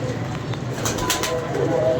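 Pigeons in a loft cooing softly with low, steady murmuring, a few brief higher chirps breaking through a continuous background hum.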